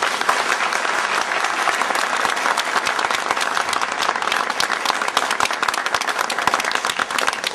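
Loud, crowded applause from an audience at a Turkish political address by the EU Affairs Minister, with rapid overlapping claps that carry on steadily without any talking.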